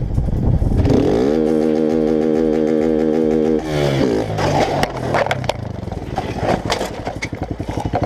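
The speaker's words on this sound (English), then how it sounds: "The rear of the motorcycle slams violently against the asphalt, resulting in significant damage to the frame and the taillight." A motorcycle's engine drones loudly on a street, then its rear slams against the asphalt in a crash, breaking into scraping clatter and a burst of sharp impacts.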